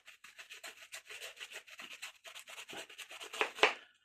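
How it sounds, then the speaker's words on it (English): A paintbrush scrubs and rubs paint into a seascape canvas in a steady run of soft, dry rasping strokes, each one close and brief, ending in a couple of louder scratchy swipes, with no voices. "Just rub it in, you can see that drying now. Just scrub out those bits where the pigment's gone in a little bit much."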